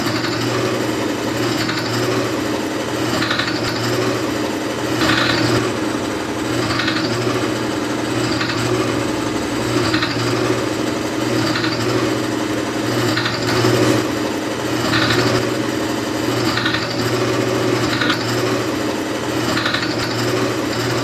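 A friction tester being pumped during a demonstration, a continuous mechanical whir with regular rhythmic surges roughly every second and a half, steady and close, no voices.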